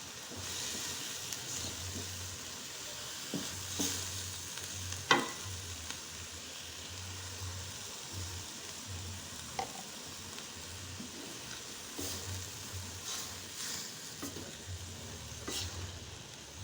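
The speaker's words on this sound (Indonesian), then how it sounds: "Kita masukkan dan kita campurkan menjadi satu ke dalam wajan." Papaya leaves stir-fry in a wok with a steady soft sizzle and hiss, broken by scraping stirs and clinks, at a moderate, fairly quiet level.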